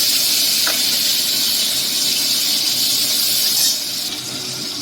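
Chopped tomatoes and slit green chilies fry in hot mustard oil with black cumin seeds, giving a steady, loud sizzle and hiss that holds throughout at close range.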